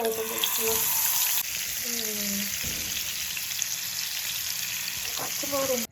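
Fish fries with a steady sizzle crackling in a hot pan throughout, with a few faint bird-like chirps and a brief clatter in the background.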